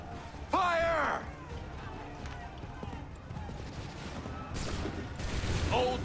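Musket volley in Assassin's Creed 3, a crackling burst of massed gunfire amid battlefield noise and shouting voices, with a loud rattle early on and further scattered shots toward the end.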